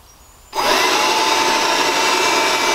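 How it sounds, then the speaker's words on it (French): A Worx WX094E leaf blower starts abruptly and runs at its lowest power setting, a steady, loud, close whooshing drone that holds evenly after the start. "je vais tester ces 3 niveaux en commençant par le premier"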